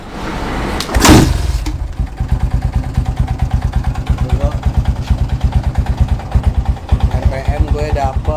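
A Yamaha Scorpio 225 motorcycle engine cranks with a loud burst, then settles into a steady, close, rhythmic idle of single-cylinder pulses.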